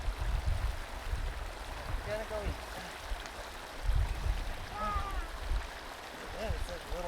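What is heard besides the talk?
small waterfall on a mountain stream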